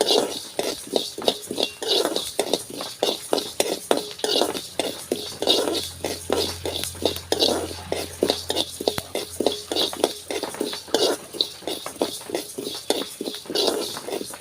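Rice roasts in a pan for a homestyle ginger curry, with rapid, rhythmic scraping and stirring strokes of a spoon against the pan, close and continuous, while a voice talks softly over it.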